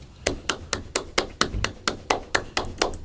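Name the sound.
one person clapping alone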